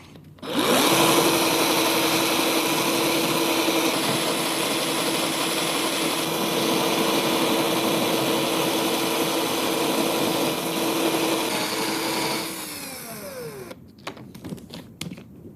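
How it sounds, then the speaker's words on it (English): A power drill spins 80-grit sandpaper against small wooden balls, giving a steady, loud whirring grind that runs unbroken for about twelve seconds before winding down, followed by a few scattered handling knocks. "So I get a drill, tighten that off, get my sandpaper. I'm using an 80 grit, so it's really rough, and then let's sand it."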